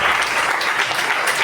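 An audience at a church seminar applauds and cheers in acclaim of God's name, a dense, steady wash of clapping that fills the whole moment without a break.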